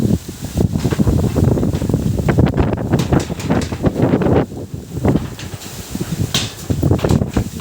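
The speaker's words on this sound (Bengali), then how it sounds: "দেখো, আমাদের বেড়াটা ভেঙে গেল এই হাওয়াতে।" Strong stormy wind gusting outdoors in the village of Islampur, Daribhit, as rain sets in, heard as rough, buffeting roars and rustling bursts against the microphone, rising and falling in uneven waves with no talking.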